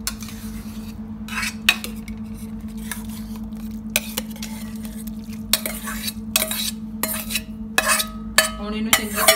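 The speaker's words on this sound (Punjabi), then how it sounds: "ਹੁਣ ਇਹਨੂੰ ਚੰਗੀ ਤਰ੍ਹਾਂ ਅਸੀਂ ਦੁੱਧ ਦੇ ਵਿੱਚ ਮਿਕਸ ਕਰ ਲਾਂਗੇ" Mashed carrots are stirred into milk in a pot for a gajrela, with repeated spoon clinks and scrapes against the metal, some soft squishing and a low steady hum underneath.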